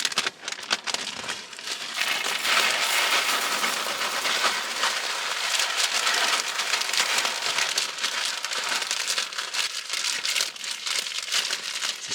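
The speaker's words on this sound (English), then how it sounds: "Pouring rice into a Ziploc bag." Dry rice grains poured steadily into a plastic Ziploc bag to dry out a waterlogged Sony A7S III camera, a dense continuous crackling hiss like rain on a surface, close and even for about twelve seconds with no talk.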